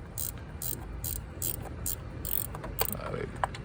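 A ratcheting wrench works on bolts of a 2005 Mazda 3 2.3 engine during a valve cover gasket job, giving bursts of rapid clicking in a regular back-and-forth rhythm, close and fairly quiet, with a couple of sharper metallic taps near the end.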